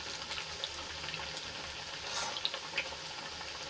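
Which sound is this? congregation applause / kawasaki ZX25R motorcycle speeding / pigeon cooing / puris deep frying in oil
puris deep frying in oil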